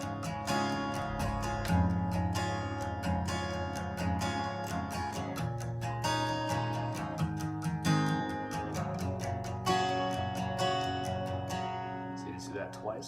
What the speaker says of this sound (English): you're going to strum it with down up strums all the way through